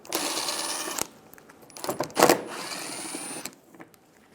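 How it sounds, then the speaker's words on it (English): Two 10mm bolts come out of a Toyota Tacoma front fender liner at the bumper: a tool whirs in short bursts, with a metallic clink between them, fairly close and with no talk. "Remove the 2 bolts."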